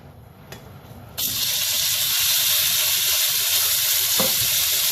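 Beef dropped into shimmering hot oil in a pan, bursting into a loud, steady sizzle that starts abruptly after a quieter moment and holds close and continuous, with faint stirring beneath.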